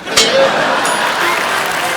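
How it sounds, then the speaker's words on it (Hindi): Studio audience applause on a Hindi comedy show, a dense burst of clapping sustained loudly across the whole moment with crowd noise beneath. "ठोको ताली।"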